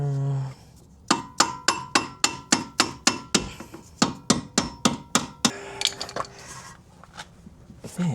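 Hammer blows on a Honda Civic Si rear camber arm, a steady run of about sixteen sharp metallic strikes at an even rhythm, close and loud, followed by a few scattered clanks as the work slows.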